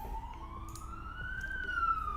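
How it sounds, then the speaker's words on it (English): An ambulance siren passes with one long, steady wail that slowly climbs in pitch and grows a little louder toward the end, above a low rumble of background noise. "some ambulance going"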